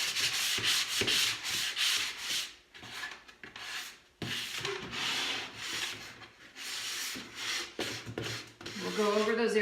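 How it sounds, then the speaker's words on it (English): A sanding sponge rubbing over chalk-painted wooden furniture to smooth and distress it, repeated close scratchy back-and-forth strokes in uneven bursts with brief pauses, and a voice faintly present near the end. "We'll go over those areas that we did with the sand sponge, this distressing sponge, just to sort of smoothen"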